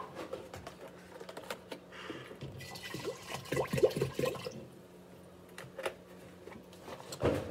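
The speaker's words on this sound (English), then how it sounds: "Let's add a little bit more water." Water pours into an Instant Pot during a home mushroom-growing grain prep, a steady close splashing and gurgling fill with clinks and handling knocks, louder in the middle before settling, no speech.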